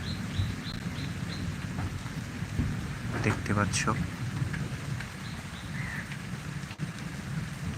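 Summer-end rain falls in a steady broadband hiss, with a low rumble like distant thunder beneath it and a person talking over the downpour.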